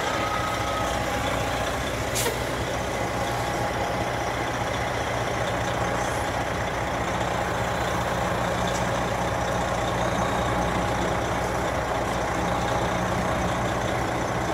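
A tractor trailer backing up on a hard right turn, its diesel engine rumbling steadily at low idle with a continuous close drone, a brief hiss and faint clicks, no talk.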